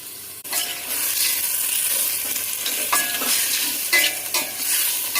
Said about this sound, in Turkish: İlk önce etleri ve soğanları güzel bir kavuracağız.